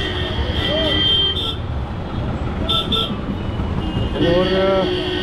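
Street traffic at Parade Market in Jammu with several horns honking, short toots at first and a longer blare near the end, over constant road noise.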